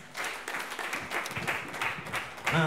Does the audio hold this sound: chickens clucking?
no